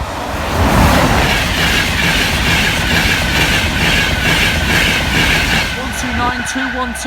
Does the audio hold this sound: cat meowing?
no